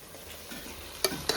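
Cooked cassava tipped into a pan of fried coconut and masala, quietly sizzling with two sharp scraping stirs of a spoon near the end.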